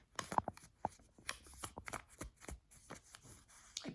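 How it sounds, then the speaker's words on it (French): A sheet of paper being folded in half during a candle ritual, with a quick series of close, crisp crackles and creases that come in short irregular bursts. "vous allez plier en deux le papier"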